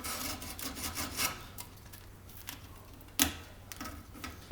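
Metal screwdriver scraping and grinding grip tape off a scooter deck, a continuous gritty rasp with small ticks and one sharper scrape, close and fairly quiet over a low steady hum.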